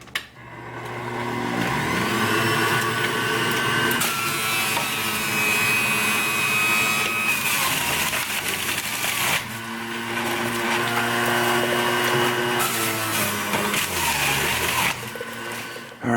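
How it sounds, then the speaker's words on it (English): A Breville Juice Fountain juicer whirs loudly as celery stalks are fed through, its motor droning steadily with grinding surges and pitch dips as each stalk hits the blade, pausing briefly midway before starting again. "we're just gonna use this Breville juicer"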